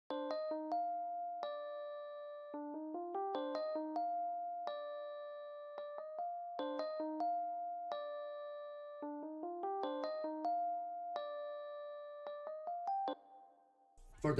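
Purity plugin's Pretty Suitcase e-piano preset, played with articulated notes for a dark plugg beat: a bell-like electric piano phrase of short plucked notes and held tones that repeats in a steady loop, clean and alone, cutting off near the end.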